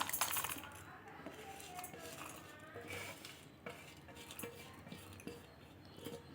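Close kitchen clatter while handling a mixie grinder jar for coriander chutney: metal and glass objects clink and knock against each other in irregular bursts, with light scraping between hits.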